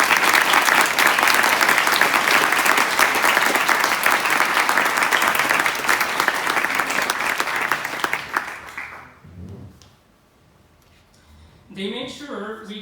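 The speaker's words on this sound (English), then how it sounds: "Please join me in giving them a round of applause for their effort with us during these years" At a university commencement, the audience gives a long, full round of applause for university staff, steady and loud for about eight seconds before fading out, then a voice begins speaking.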